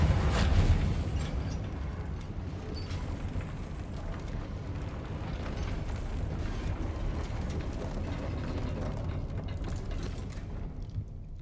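A Reparo repair spell in the Hogwarts Legacy video game plays as a steady grinding, ratcheting mechanical whir with creaks, sustained for several seconds at moderate level with no talking.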